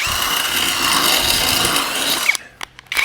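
A power drill whirs steadily and loudly while fitting a junkyard seat into a 1941 Mercury, then cuts off near the end, followed by a few sharp knocks.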